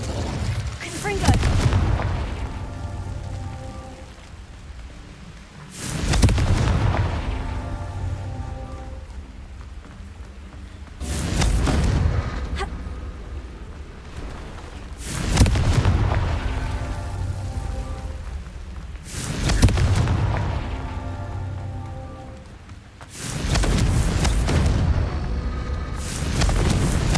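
Confringo fire-blast spells going off in Hogwarts Legacy: six heavy, booming bursts spaced every four to five seconds, each swelling loud and then fading into a rumbling tail.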